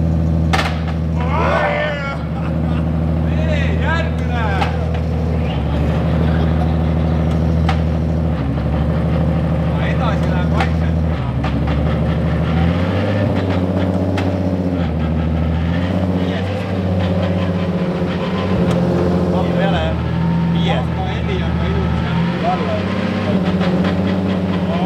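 A Nissan 350Z engine runs with a steady, loud, droning hum that holds throughout, heard up close while people talk over it.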